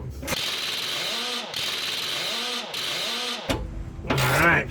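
A hand ratchet tightens a long bolt on a 2000 Ford Taurus during fuel pump work, three rapid clicking strokes in steady rhythm, close up, followed by a clank of the tool.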